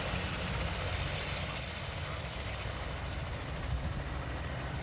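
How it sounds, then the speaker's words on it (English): Air ambulance helicopter setting down at a city hospital, a steady broadband rotor and engine roar that holds at an even level throughout, with no talk. "I just saw an air evac helicopter land"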